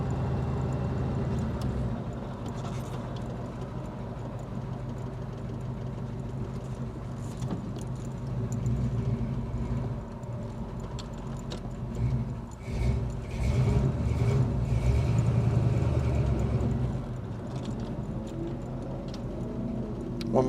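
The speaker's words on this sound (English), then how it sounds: "We got some speed bumps to go over." A 1966 Chevelle SS engine hums steadily at low speed, with soft bumps and jostling rattles as it rolls over a series of speed bumps.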